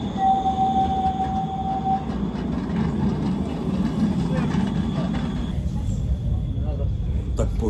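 An old tram rumbles and clatters along the rails nearby, with a brief tone early on and a steady mechanical drone throughout.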